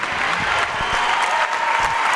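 A crowd at a high school district championship basketball game between the Tecumseh Indians and the Onsted Wildcats applauds and cheers, a loud, dense wash of clapping filling the whole moment.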